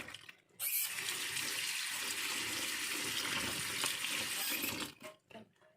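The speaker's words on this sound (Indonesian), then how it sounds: "Ini terongnya akan kita cuci dulu." Running water splashes steadily as eggplant is rinsed, a continuous loud gush that starts abruptly and tapers off near the end with a few smaller splashes.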